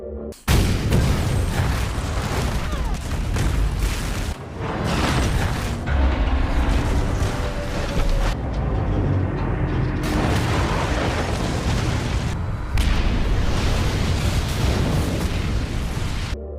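Loud, sustained booming movie explosions, a continuous roaring rumble with a few brief breaks between heavy blasts.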